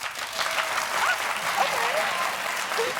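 A studio audience claps throughout in a steady, moderate wash of applause, while a host speaks briefly over it.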